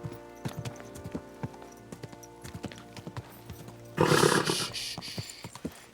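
Rhythmic clip-clop of horse hooves trotting in the video game Kingdom Come II, followed by a louder rushing burst of movement near the end.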